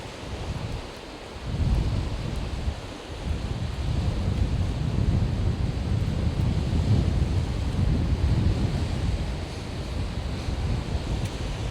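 Cold wind blowing on a seashore roars in a constant low rumble that buffets close against the microphone, with the surf washing underneath and no voices.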